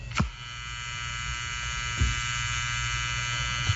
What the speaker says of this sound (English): it's actually a dimmer switch on a wall